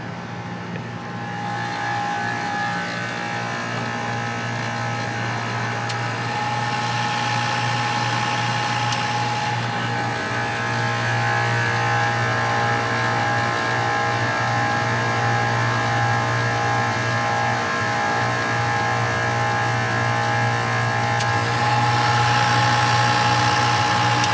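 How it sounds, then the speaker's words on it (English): A digital HVAC compressor running outdoors in the field, a steady loud mechanical hum with a strong low tone and buzzing overtones, continuous and unchanging, alone without talk. "this is what a digital compressor sounds like in the field"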